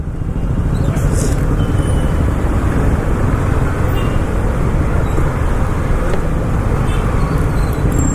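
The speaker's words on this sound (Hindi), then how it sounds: "बाकी यहाँ पर ट्रैफिक बहुत ज़्यादा है।" Dense morning road traffic makes a loud continuous rumble of engines close by, with a few horns and faint high tones above the roar.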